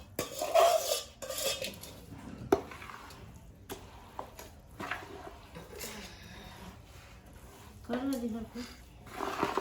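Gond, edible gum, being mixed in a pan, with scraping and clattering spoon-on-metal strokes in bursts while people talk over it.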